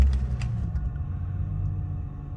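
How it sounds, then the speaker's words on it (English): A 1998 BMW Z3 M Roadster's straight-six engine idling steadily after starting, a close, even low rumble with no talk. "Starts smartly and settles down to a nice idle."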